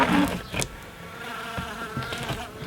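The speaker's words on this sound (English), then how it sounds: "I've got a bee in here now" An insect buzzes near the microphone while honey is scraped from the comb during processing, with a brief close rise around half a second in and faint clatter from handling after it.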